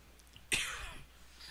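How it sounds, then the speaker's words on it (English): A single short, sharp cough bursts out once, fairly close, from a player during a Call of Duty: Modern Warfare session, with quiet background before and after. "Why do I keep coughing like an old man?"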